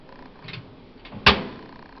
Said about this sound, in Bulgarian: Врата се затварају